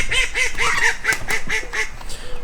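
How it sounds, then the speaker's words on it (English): Ducklings in a cage give a run of repeated quacking calls, about eight evenly spaced peeps and quacks close by, with a little rustling underneath. "Come, ducklings."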